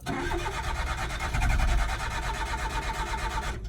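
Citroen C1 engine cranking and catching after a fuel pump replacement, then settling into a steady, loud idle close by with a brief surge partway through; no talking.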